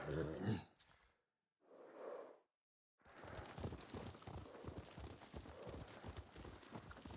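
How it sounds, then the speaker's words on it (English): In the video game Ghost of Tsushima, a horse's hooves clip-clop in a steady, even trot after a couple of brief snorts and breaths, close and moderately loud. "What a good horse."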